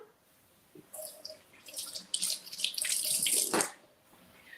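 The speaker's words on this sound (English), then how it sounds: "We'll get a nice little handful of berries here, and we will rinse these off and cut them up for him." A handful of berries is rinsed under a running kitchen tap, with water splashing and hissing into the sink for a few seconds before it stops. No one speaks.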